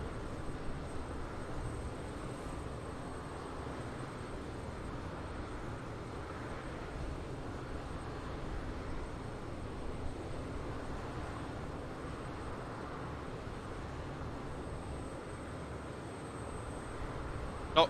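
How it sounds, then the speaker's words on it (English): JustFlight BAe 146-200QT four-engine jet accelerating on its takeoff roll at Thessaloniki in Microsoft Flight Simulator, a steady broadband engine roar and rumble heard from inside, constant and fairly even for the whole stretch. "Here she goes, down the runway."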